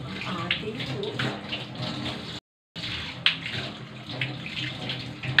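Steady running water from a tap rinses soil off freshly picked vegetables for sinigang, with splashing and handling noises throughout and one brief dropout partway through.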